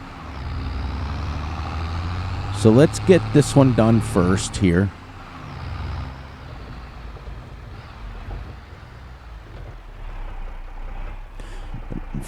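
An old-iron tractor in Farming Simulator 22 runs with a low, steady engine rumble throughout, close by, while a voice speaks briefly over it partway through.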